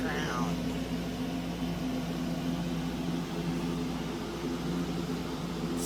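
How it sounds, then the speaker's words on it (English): An electric fan hums steadily in the background, a constant soft broadband whoosh with a low drone, running alone without a break. "You can hear my fan in the background."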